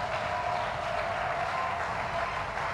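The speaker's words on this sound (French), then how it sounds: "voulez-vous maintenant faire une grande acclamation pour le Seigneur?" A church congregation applauds and cheers in acclaim, a dense, steady wash of clapping and crowd noise filling the room.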